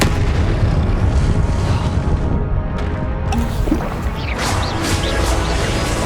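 Confringo fire spell blasts in the video game Hogwarts Legacy, a dense, continuous roar of booming impacts and crashing bursts with no talking.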